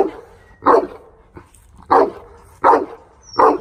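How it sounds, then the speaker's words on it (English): A dog barks four times in separate, evenly spaced bursts, close and fairly loud, with quiet gaps between. "Don't bark"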